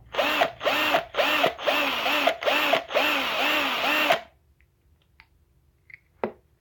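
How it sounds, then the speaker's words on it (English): Small power drill boring into a 1:64 diecast car, five short whirring bursts followed by a longer run, then near silence with a few faint clicks and a brief tap. "Might have to drill this back out a tiny bit more."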